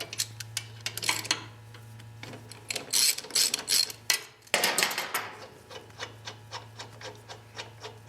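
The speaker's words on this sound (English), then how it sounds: "Now we can remove the brake caliper bolts." Ratchet clicking while brake caliper bolts are loosened on a 2008 Harley Davidson motorcycle, with irregular bursts of close mechanical ticks and a steadier run of rhythmic clicks toward the end.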